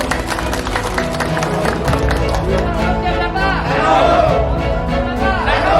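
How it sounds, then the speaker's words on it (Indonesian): A crowd at a community gathering in Kelapa Dua, Indonesia, applauds, with steady clapping swelling under a loud, continuous voice and lively music. "Tepuk tangannya untuk Pak Prani."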